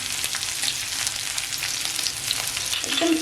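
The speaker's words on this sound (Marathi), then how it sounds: "आता आपण आहे ना त्याच्यात वाटण टाकून घेणार आहोत अच्छा आलं आणि लसूणचं वाटण आहे" Ginger-garlic paste fries with chillies in a hot pan, giving a steady, close hiss of sizzling oil with faint crackles throughout.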